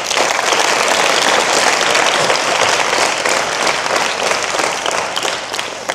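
A large audience claps in sustained, dense applause for the police department at a public talk, loud and steady throughout with no pauses.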